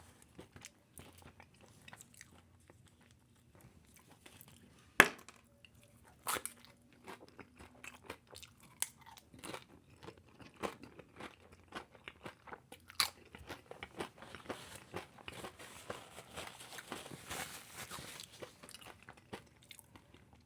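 A crispy Taco Bell tortilla shell is bitten with a sharp crunch, then chewed in a long run of quiet, close crackling munches.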